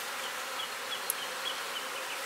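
Honey bees hum in a dense, continuous buzz around a hive box, close and steady with no voices.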